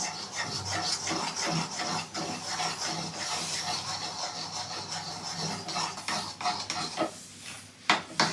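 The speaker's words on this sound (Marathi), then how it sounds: "हे टाकते आणि कंटिन्युअसली स्टीर कर" A sesame and jaggery til-gul mixture is stirred in a pan, giving continuous gritty scraping and rubbing with irregular knocks against the pan, close and fairly loud.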